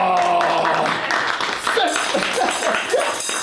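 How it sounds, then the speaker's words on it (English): Audience at a live magic parlor show bursts into loud, sustained applause with cheering and whistles, the crowd noise filling the whole stretch while a voice calls out over it. "So you guys are going to go nuts with applause."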